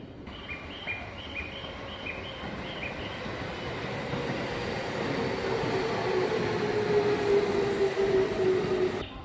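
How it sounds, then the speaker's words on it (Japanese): A Tobu train rolls in with a deep, steady rumble that grows louder, joined by a thin high wheel squeal as it nears; faint birdsong sits in the background. "東武の電車が来た"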